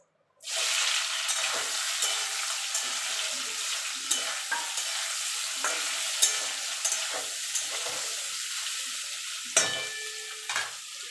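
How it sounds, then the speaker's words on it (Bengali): Soybean chunks fry in hot oil with a continuous bright sizzle, close and steady, dotted with occasional stirring scrapes and pops, no voices. "এই তেলে আমি সোয়াবিনগুলো ভেজে নেবো"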